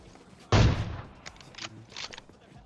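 A single loud AWM sniper rifle shot in PUBG Mobile, a sharp close crack with a decaying tail, followed by fainter distant game sounds.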